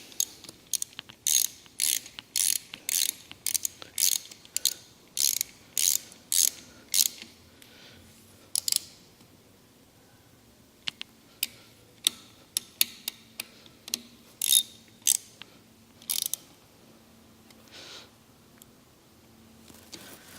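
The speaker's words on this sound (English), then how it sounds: "And then tighten those down with an 8mm socket or wrench." Socket wrench ratcheting as it tightens 8mm bolts on a Mate air compressor during air oil separator filter service: bursts of quick clicking strokes, close and clear, then sparser isolated ticks toward the end.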